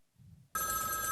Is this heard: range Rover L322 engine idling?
no